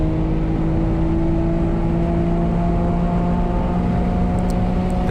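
A Nissan Z with the VQ37 engine runs hard down a race track straight, a loud, steady drone with a constant pitch under dense rushing wind noise throughout.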